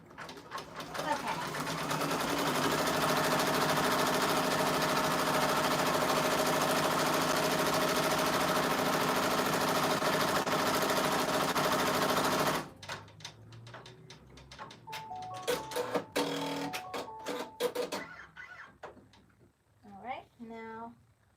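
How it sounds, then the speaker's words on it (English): An embroidery machine sews a placement stitch for a Christmas appliqué shirt: a steady, loud whirring hum for about twelve seconds, then it stops, leaving clicks, clatter and a voice speaking. "Now it's doing the placement stitch for the green"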